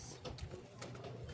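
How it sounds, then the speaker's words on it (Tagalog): Soft, faint cooing of domestic pigeons against a low background murmur, with possible voices in the distance. "Yun mga kalapatids"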